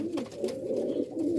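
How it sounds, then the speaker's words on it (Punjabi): An Indian pigeon coos close by in a breeder's loft, giving a brief soft, throaty rolling coo. "ਇਹ ਦੇਖੋ ਭਾਜੀ, ਇਹ ਇੰਡੀਅਨ ਕਬੂਤਰ ਸਰ"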